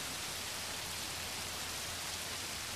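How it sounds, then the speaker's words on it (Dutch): Heavy rain pours down during a thunderstorm in the Netherlands, a dense steady hiss of falling water with no pauses, no thunder and no voices. "Het onweer ging gepaard met veel regen."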